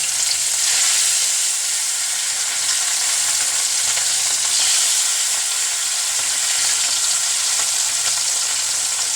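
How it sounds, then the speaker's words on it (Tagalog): Tilapia fillet of modest size frying in a hot pan for escabeche, a steady, loud, close sizzle with crackling oil that holds evenly throughout, no voices. "Yan, pirito ng tilapia"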